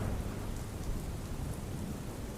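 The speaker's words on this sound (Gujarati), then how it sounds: "ધોધમાર વરસાદ પડ્યો છે" Heavy rain pours down steadily during monsoon downpours in Gujarat, a dense, even hiss with no voices, fairly faint throughout.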